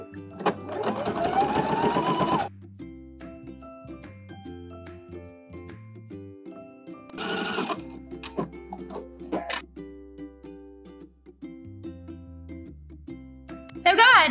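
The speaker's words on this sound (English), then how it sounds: "So now it's time to give them a nice edge stitch." A sewing machine edge-stitches fabric tubes for a clear raincoat in bursts of rapid, loud needle chatter, separated by quiet stretches where soft background music is heard.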